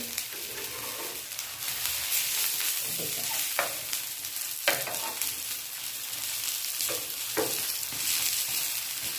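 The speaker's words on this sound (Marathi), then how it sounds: "आता हे आपण या साईडनं भाजून घेणार आहोत आणि आता आपण गॅस अगदी बारीक केलेला आहे" Colocasia leaf rolls roast in a pan with a little oil over a very low gas flame, making a soft continuous sizzle broken by several sharp scraping and turning clicks, close by.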